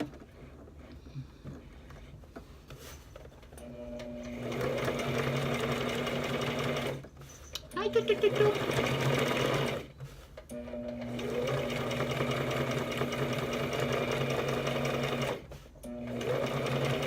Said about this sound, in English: we're gonna sew our seam down